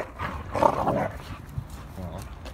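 Dogs, including a husky, play-fighting before a gig, with scuffling, yelps and growly barks under loud background chatter from people talking nearby.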